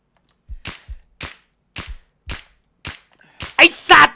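Gunfire in a Thai role-play shooter game: a string of sharp, loud shots spaced roughly half a second apart, then a denser, louder burst at the end, with no talk over them.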